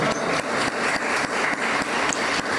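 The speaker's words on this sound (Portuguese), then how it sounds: "aplauda o Senhor" Church congregation applauding together during a worship service, a dense steady wash of many hands clapping at close range, with no talk over it.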